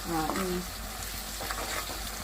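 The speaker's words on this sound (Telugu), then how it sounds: "అల్లం వెల్లుల్లి పేస్ట్ వేసుకుని ఇందులో పచ్చివాసన అయ్యాక ఫ్రై చేసుకోవాలి" Ginger garlic paste frying in a pan for a cucumber and fish curry, giving a soft, even sizzle and crackle at moderate distance, with a brief tonal clatter near the start.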